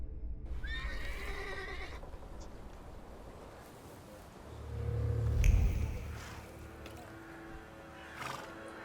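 A horse whinnies loudly in the Thaumaturge video game, a long shrill neigh followed by a low snorting rumble and faint hoof clops, over steady ambient game noise.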